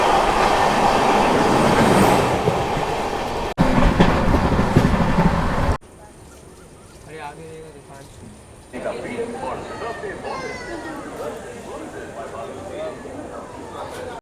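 An Amrit Bharat Express train runs with loud rumbling and wheel clatter while a special train rushes past in an overtake, then the sound drops to a quieter interior hum with a person talking.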